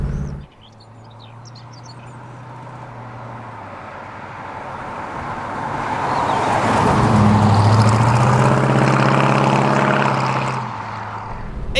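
A 1969 Oldsmobile 442 with a big block V8 drives by, its low engine drone building from a quiet start to a loud, smooth roar near the middle before easing off toward the end. No one speaks over it.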